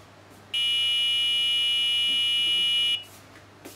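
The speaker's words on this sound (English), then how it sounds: "you heard the buzzer sounding off" A loud, steady electronic intrusion alarm buzzer from a transmitter and receiver kit drones for about two and a half seconds, then cuts off, leaving quiet room tone.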